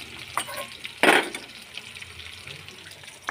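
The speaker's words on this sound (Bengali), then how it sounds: "ভাজা ভাজা হচ্ছে, পেঁয়াজ হালকা লাল হয়ে আসছে" Onions fry in oil with bay leaf and chili as a spice tempering in a home kitchen, a soft sizzle with scattered stirring clinks and a louder burst of hissing near the middle.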